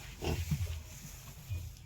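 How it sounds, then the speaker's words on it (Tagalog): A pig on a Philippine backyard farm gives low grunts in short bursts, close and fairly loud, with a final grunt near the end. "Yun yung baboy niya."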